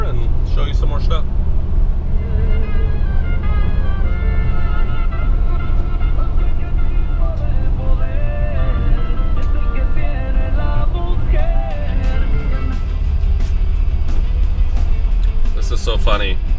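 A 1959 Chevy Brookwood cruises along a road, its engine and road noise a steady loud drone throughout, while people talk inside the car.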